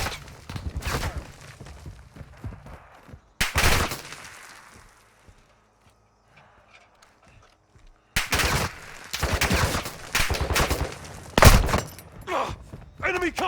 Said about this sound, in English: I'm taking enemy fire!